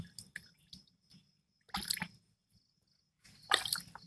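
Short bursts of water trickle and splash onto a plant cutting in damp soil and rice-husk mix, two or three brief pours separated by quiet pauses, close up.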